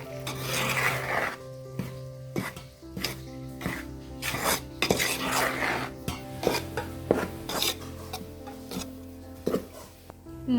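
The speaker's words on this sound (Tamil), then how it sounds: "கொதிக்க வச்ச வெந்நீரை ஊற்றிட்டு மாவை பிசைஞ்சிக்கலாம்." Rhythmic rubbing and slapping sounds of rice flour dough mixed with boiled hot water being worked by hand, with soft knocks against a bowl, repeating unevenly.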